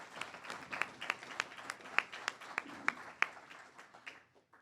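A graduation audience at an internal medicine residency certificate presentation claps in thin, scattered applause that sounds faint and distant, with separate sharp claps standing out before it fades away.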